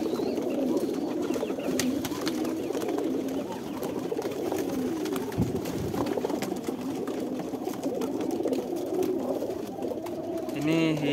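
Red keter pigeons in a collector's coop coo in low, continuous burbling murmurs, with several birds overlapping at moderate volume throughout and occasional faint clatter in the background.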